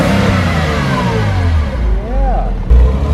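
A salvaged Porsche Boxster roadster's engine revs while driving, a loud, close mid-pitched drone that rises and falls through gear changes.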